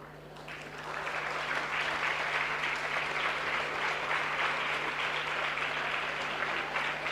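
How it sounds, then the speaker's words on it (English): A graduation-day audience at a nursing college claps steadily for parents and teachers: dense, sustained applause that swells within the first second and holds evenly, with a faint low steady hum underneath. "give a round applause to your parents and the teachers who have made this journey possible for you"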